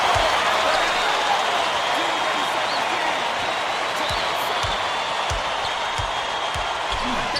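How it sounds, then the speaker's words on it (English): A dense, steady roar from the crowd at an NCAA tournament college basketball game, Memphis against North Carolina, fills the arena. Faint ball bounces thud underneath the cheering. "Listen to the crowd burn."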